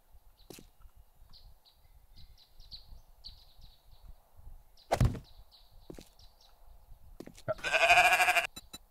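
Sheep bleat in the 7 Days to Die War3zuk mod video game, with a short loud bleat midway and a louder, buzzy bleat near the end, amid faint game sounds and repeated soft chirps.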